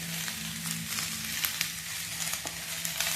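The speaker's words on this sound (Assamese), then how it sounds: "হালধি আৰু নিমখখিনি মই অলপমান সময় ভালদৰে ভাজি ল'ম" Turmeric and salt frying in a pan for a sweet star fruit pickle, a steady soft sizzle with faint crackles and light stirring scrapes, low and close.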